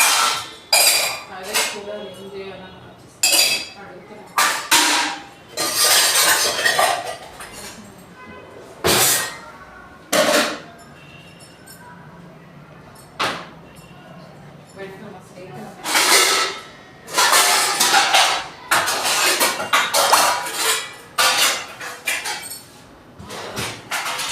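Metal pots, steel vessels and utensils clank and clatter as they are stacked and put away in a home kitchen. The knocks come close and loud in irregular bursts with brief pauses between.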